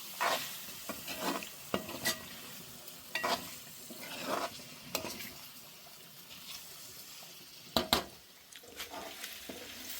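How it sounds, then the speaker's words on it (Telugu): Tomato pieces fry in oil in a village kitchen pot for chicken curry, with a faint background sizzle broken by intermittent scraping and clattering stir strokes. "టమాటా ముక్కల్ని ఇలా నూనెలోని బాగా ఉడకనిస్తాను"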